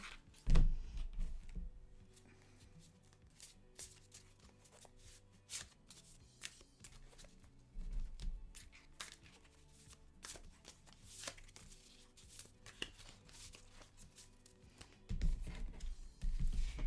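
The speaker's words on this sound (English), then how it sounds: "What I'm probably going to do is just draw randomly, even though I'm shuffling too." A tarot card deck is shuffled by hand in repeated quick bursts of crisp riffling and flicking, close and fairly quiet, with occasional soft thumps as the cards are squared.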